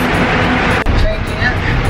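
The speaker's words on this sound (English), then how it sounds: "So we're on the bus." Bus travelling to the airport in Hong Kong, with a steady low engine and road rumble throughout and people talking over it.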